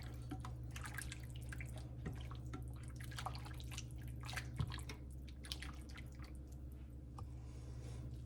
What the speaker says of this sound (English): I've got my gravy at this perfect little gentle simmer